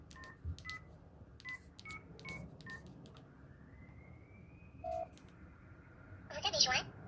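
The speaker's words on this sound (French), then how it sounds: "On va l'appeler, tant qu'à ça." A telephone dials a number, about eight short tone beeps in an uneven sequence, followed by a rising tone and a brief ring burst, with someone talking faintly underneath.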